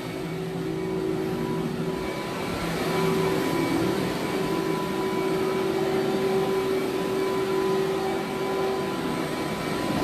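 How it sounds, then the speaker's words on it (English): Vacuum cleaner running on carpet in a room, a loud, steady motor whine with airflow hiss that holds constant for the whole stretch, with no talking. "let's go ahead and vacuum this room in both rooms"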